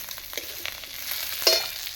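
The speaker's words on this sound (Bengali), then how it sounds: "পেঁয়াজটা লাল লাল করে ভাজা হয়ে গেছে" Chopped onion frying in oil in a pan for kachori filling gives a soft, steady sizzle with faint stirring scrapes and a brief louder crackle near the end, alone without talk.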